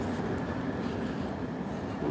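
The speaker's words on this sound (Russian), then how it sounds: "Трамвайчики." A tram rumbling past on a street in Olomouc, a steady low rolling drone with faint rail clatter, moderately close and unbroken throughout.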